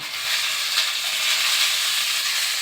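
Tomatoes hit a hot pan for a paneer and potato curry, giving a steady, bright, close sizzling hiss that holds without a break for under three seconds, with no talking.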